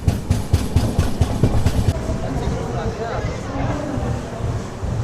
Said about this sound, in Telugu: మనం వచ్చేసి కాయకుళం జంక్షన్ నుంచి అయితే బయలుదేరిపోయినాము